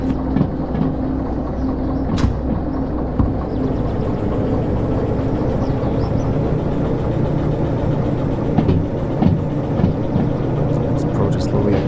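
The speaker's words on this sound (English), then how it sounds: "The train will continue to coast." Train rolling on rails with throttle released in the railway simulator game Derail Valley: a steady, loud low rumble and hum of wheels and running gear, continuous throughout with occasional faint clicks.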